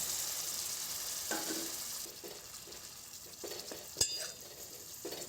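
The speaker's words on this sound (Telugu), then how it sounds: "ఉల్లిపాయలు ఈ విధంగా మగ్గిన తర్వాత మ్యారినేట్ చేసుకున్న చికెన్ వేసుకొని కలుపుకోవాలి" Marinated chicken and softened onions fry quietly in a pan, a low hiss with occasional scraping stirs and one sharp clink of a utensil, close by and faint.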